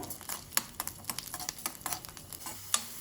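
Garlic frying in oil in a pan while being browned, with a steady soft sizzle broken by sharp clicks and scrapes of a spatula against the pan, close and fairly quiet, no talk.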